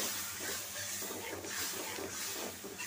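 Water poured onto hot frying ground spices, turmeric, coriander and red chilli powder, gives a continuous broad hiss of steam that stays even and fairly faint, with no talking.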